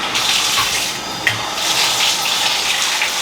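Water runs from a tap into a bathtub, giving a steady, loud, close rush and splash that continues unbroken with only small shifts in intensity.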